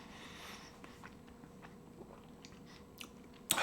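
Soft bites and chewing of a Lawson konbini egg salad sandwich in Tokyo, faint quiet crunches close to the mic with a rustle at the end.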